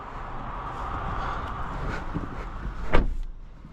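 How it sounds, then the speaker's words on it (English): A 2026 Volvo XC40 B5 Ultra Black Edition pulling away on the road, a soft steady engine and road hum heard from inside the cabin, with a brief louder swish near the end. "Let's take it out on the road and go for a drive."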